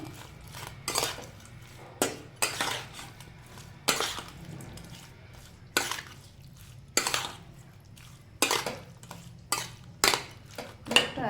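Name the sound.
mixing shrimp with turmeric and salt in a bowl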